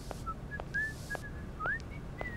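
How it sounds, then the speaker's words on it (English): A man in Syberia whistles Dixie a short way off, thin wavering notes and slides drifting over a quiet background, with faint soft taps of sweeping in between. "By the guy whistling Dixie."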